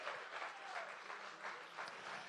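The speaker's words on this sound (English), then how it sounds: "Give everybody a huge round of applause." An audience at a charity fashion show and auction gives a sustained round of applause, a soft, even wash of many clapping hands heard at a distance throughout.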